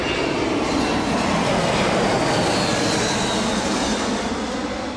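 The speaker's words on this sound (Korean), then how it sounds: "이 포인트가 안 좋은 게 비행기가 계속 들어옴" At a bass fishing spot where planes keep coming in, a loud airplane roars overhead, a broad continuous rushing drone that fills the whole five seconds and fades slightly at the end.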